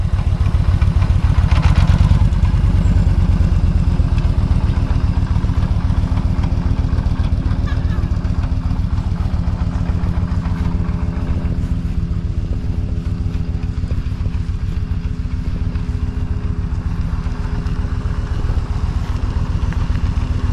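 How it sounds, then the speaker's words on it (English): Motorcycle ridden by a learner rider as throttle is applied, producing a loud, close, continuous engine drone with a rough, pulsing beat throughout, and no voices. "give it a little bit of throttle."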